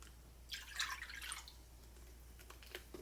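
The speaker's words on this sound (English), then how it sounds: "pouring 1 cup of water in." Water being poured from a cup for a smoked salmon brine, a soft trickling splash in the middle of the clip against a quiet room, fading to faint drips.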